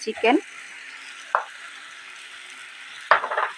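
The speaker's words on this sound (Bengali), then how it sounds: "চিকেনটাকে দিয়ে আমি আরেকটু ভালো করে কষিয়ে নেব।" Chicken pieces frying with spiced potatoes in a pan, stirred in a few short scraping bursts over a steady low sizzle, with quiet gaps between the strokes.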